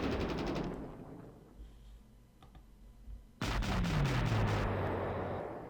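Artillery fires in the World War II strategy game Panzer Corps: a rapid cluster of sharp blasts opens, a quieter lull with small clicks follows, then another loud volley of bursts with a descending whistling tone.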